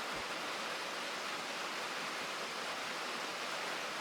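Water pours steadily into a steam locomotive boiler in the train game Derail Valley, a continuous dense hiss and rush of flowing water with no pauses and no other sounds.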